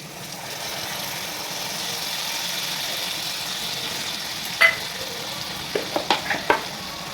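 Spice paste for prawn curry sautés in a pan with a low, even sizzle, followed near the end by a handful of sharp spatula knocks and scrapes.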